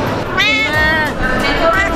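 A 14-month-old cat meowing loudly and close, with drawn-out, wavering cries mixed with a person talking throughout.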